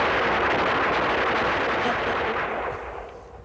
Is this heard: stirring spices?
no